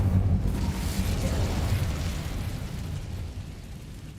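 Incendio fire spell cast in the Hogwarts Legacy video game, a loud, dense whooshing burst with a deep rumbling low end that roars at the start and slowly tapers across several seconds.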